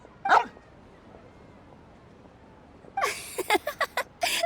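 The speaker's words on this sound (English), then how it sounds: "Don't worry, he's a good dog. He doesn't bite." A dog in the video game Genshin Impact gives a short yip, then after a pause a series of quick, bright barks and yelps, close and lively.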